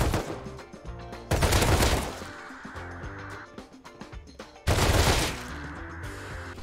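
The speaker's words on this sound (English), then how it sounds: "I'm not a big fan of this MP5 recoil." An MP5 submachine gun fires in a shooter game, giving two short, loud automatic bursts about three seconds apart. Quieter game ambience fills the gaps between the bursts.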